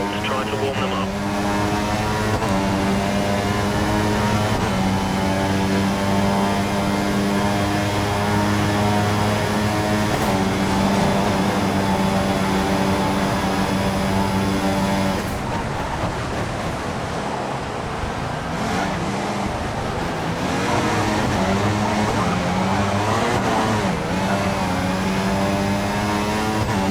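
In the F1 2014 video game, a Williams Formula One car laps Suzuka with a loud, continuous high-revving engine whine that climbs and drops through gear changes, close and constant throughout.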